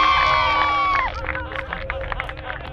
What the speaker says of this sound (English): I think Matt deserves a round of applause, everybody, don't you?